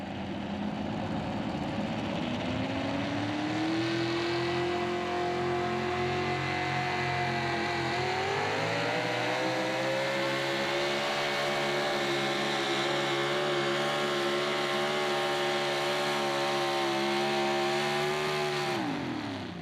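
Modified four-wheel drive pulling truck at a Pro Pulling event in Wheatland, MO, its engine roaring loud and steady for the full run, pitch climbing, dipping midway, then holding high before cutting off near the end.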